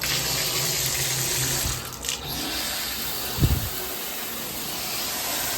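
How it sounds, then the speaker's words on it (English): A hotel shower head runs steadily, a loud broadband hiss of spraying water with a brief thump midway. "Good working shower head"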